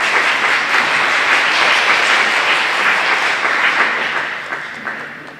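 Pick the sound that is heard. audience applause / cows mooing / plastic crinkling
audience applause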